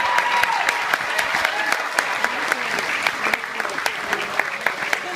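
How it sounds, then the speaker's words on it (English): Wedding guests applaud for Tracy during a family wedding toast, a steady, dense round of clapping from a room full of people. "can we just start off by giving some applause?"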